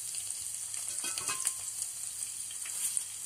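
Chopped green chillies frying in hot oil with cumin for pulihora, a steady close hiss of sizzling oil with a few light stirring scrapes and crackles in the middle, no voices.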